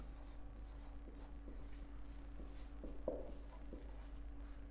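Pen or marker writing out a question on a board during a reasoning lecture, a faint series of short scratchy strokes in irregular rhythm over a low steady hum.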